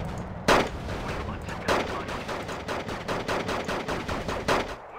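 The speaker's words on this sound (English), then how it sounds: "Ghetto gun battle there, baby." Gun battle in the video game Wargame: Red Dragon, with a few heavy gunshots followed by a steady run of rapid machine-gun bursts, mid-distance and continuous.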